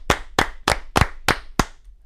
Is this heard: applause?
yes